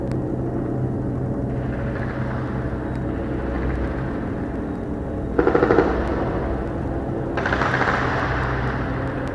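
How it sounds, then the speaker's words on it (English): Gunfire outside during a live stream, two bursts of rapid shots at a distance over a steady rumbling background. "You guys cannot hear me because of the shooting?"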